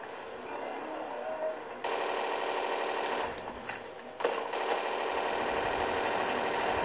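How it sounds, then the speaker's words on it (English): Rapid automatic gunfire aimed at a Panzer boss in a custom Call of Duty zombies map, a dense continuous rattle starting abruptly and running for several seconds, fairly loud, with brief breaks and no talking. "Just keep shooting him in the head for now is all I can do."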